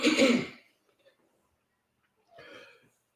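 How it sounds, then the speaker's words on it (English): A single raspy throat clearing up front, then near silence, followed by a softer second rough throat sound. "Let me clear my throat."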